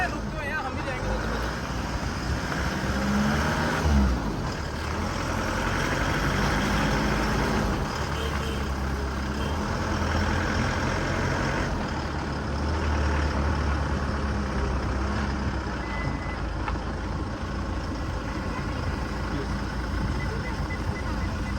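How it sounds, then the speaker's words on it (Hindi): Several cars pull out with engines running on a hill road hit by a landslide, a steady low rumble and idling drone carried under people talking and calling out close by. "ये देखिए गाड़ियाँ निकल आई हैं"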